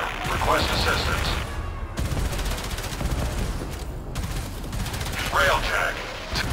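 Sustained gunfire peppers a Railjack spaceship in Warframe, a dense, steady clatter of rapid shots. Brief radio-style voices break through now and then.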